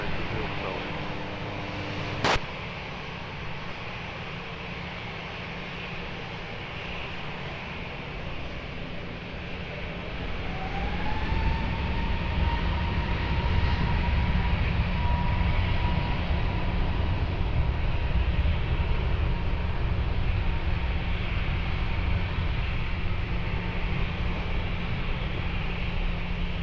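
An airliner takes off from runway 20 at Lisbon Airport, a steady distant jet roar that swells as engines spool up, with a rising whine midway and faint radio chatter, a sharp click near the start.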